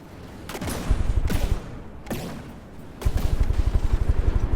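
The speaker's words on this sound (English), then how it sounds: "the custom cannons have achieved their cooldown and are now firing away" Cannon fire in a game: several booming shots and rapid rattling bursts, loud and close, with short pauses between volleys.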